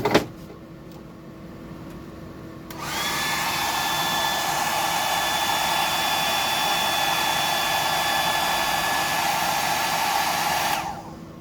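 A hair dryer blows on paint, switching on with a rising whir and then holding a loud, steady, close roar with a faint whine for several seconds before cutting off.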